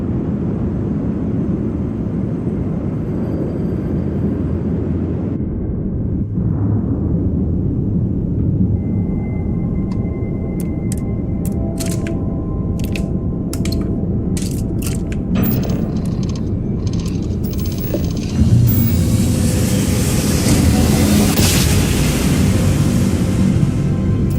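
A deep rumbling engine drone builds, broken by clicks and mechanical chirps, then surges into a louder rushing whoosh near the end.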